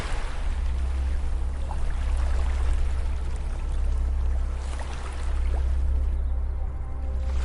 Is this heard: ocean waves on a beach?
yes